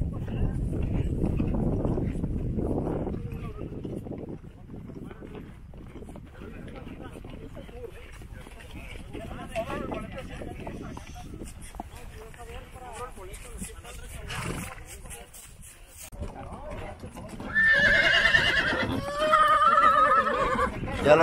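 Horses on a group trail ride between alfalfa fields near Mexicali. Hooves clop under steady talking throughout, and loud whinnies break out near the end.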